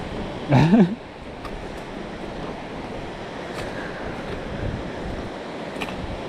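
Steady rushing water noise fills the whole stretch, a broad constant roar from Laurel Fork Falls in Tennessee nearby, with a brief louder burst near the start.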